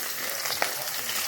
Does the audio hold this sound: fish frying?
yes